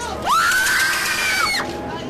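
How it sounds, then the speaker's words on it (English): A long, loud scream at a Halloween haunted trail of terror in Wallingford rises sharply, holds a high sustained pitch, then drops away, over a background of crowd noise. "From scary monsters to endless screams,"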